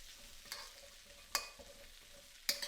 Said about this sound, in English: Stir fry for 5 minutes until the cauliflower is starting to brown at the edges.